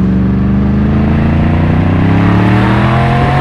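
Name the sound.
Yamaha MT10 motorcycle engine revving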